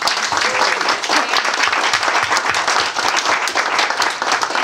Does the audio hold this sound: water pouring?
no